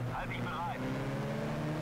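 A race car running laps on an oval track in the Need for Speed: Shift video game, a steady, loud engine drone holding constant pitch, with a voice briefly audible over it early on.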